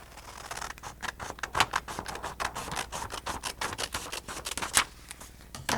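Scissors snip along a line through a folded paper foldable, a close, quick series of crisp crunching cuts in an uneven rhythm, with no talking.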